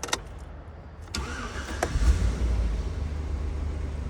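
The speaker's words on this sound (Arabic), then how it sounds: "السيارة دقت سلف واشتغلت." A 2008 GMC Yukon, just cleared of a no-crank fault, cranks briefly and catches, settling into a steady low engine idle heard close up with no talking.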